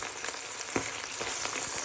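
Tuna flakes and egg frying in a pan give a steady, close crackling sizzle with small pops scattered throughout.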